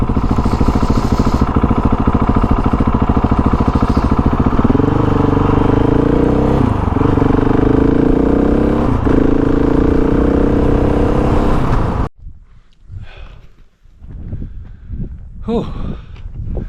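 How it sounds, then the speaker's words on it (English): A Husqvarna motorcycle rides along dirt roads, its engine droning loud and steady with a couple of throttle dips, then cutting off abruptly, leaving quieter scattered sounds. "bike's going great. The Husky loves these dirt roads."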